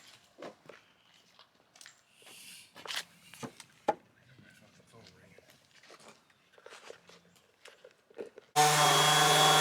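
An electric sander on wood starts up suddenly near the end and gives a loud, steady, close whir for about a second, after scattered knocks, handling noises and voices.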